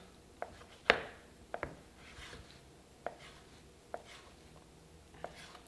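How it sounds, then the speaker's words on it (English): Cooked potatoes being sliced with a knife on a board, a handful of sharp, separate cuts and taps spaced irregularly over several seconds, close and fairly quiet with no talking. "So I'm going to just make some slices here."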